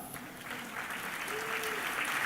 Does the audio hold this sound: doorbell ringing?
no